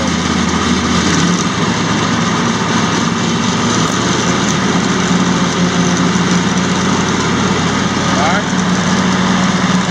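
A 2017 John Deere X350 lawn tractor runs steadily with its mower deck engaged, cutting grass in a constant, fairly loud engine drone with blade whir throughout, while someone speaks briefly over it.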